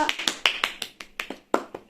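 Hands clapping to welcome a guest at home, about ten sharp, close claps in a quick, slightly uneven rhythm, heard alone.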